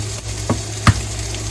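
Eggs frying in a pan for jalapeno pimento cheese burgers, a steady loud sizzle close by with two brief scraping knocks of a utensil partway through.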